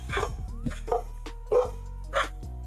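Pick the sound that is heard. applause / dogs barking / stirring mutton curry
dogs barking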